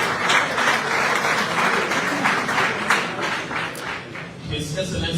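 An audience applauds steadily to welcome the president of the Press Union of Liberia at a formal Liberian gathering, with dense, continuous clapping that holds close and loud throughout.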